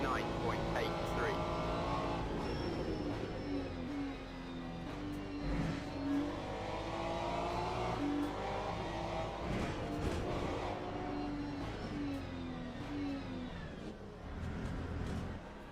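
GT3 race car engines during an overtake at Portimao in the Le Mans Ultimate video game: droning engine notes rise and fall through gear changes, with cars passing close alongside and a person talking over the racing.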